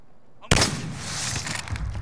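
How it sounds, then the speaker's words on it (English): Gunfire at teddy bear targets in the video game Call of Duty: Modern Warfare: a sudden, sharp, loud blast after a brief quiet, then sustained heavy shooting and rumbling echo. "You're gonna shoot the one on the right. I'm gonna shoot the one on the left."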